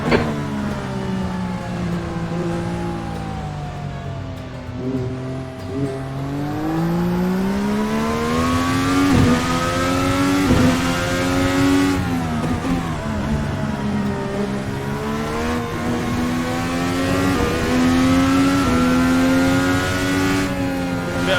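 Formula NA 2021 Indy car engine in Virtual Racing Cars, revving hard on a hot lap with steady, loud whining pitch rising and falling through gear changes and corners, continuous and close throughout.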